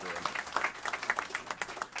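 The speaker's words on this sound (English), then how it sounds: "Yeah, nice round of applause." Brief applause at a city council Committee of the Whole meeting, scattered claps rising and falling over two seconds, fairly faint, with voices mixed in.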